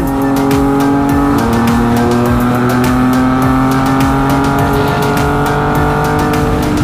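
Heavy traffic on the NLEX expressway, with cars and a truck passing close in the lanes; loud continuous engine and tire drone, with steady whooshes and no speech.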